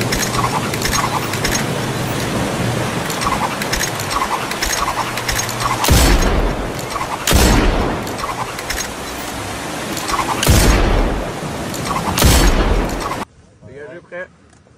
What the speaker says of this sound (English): Sir, this is an M32 grenade launcher.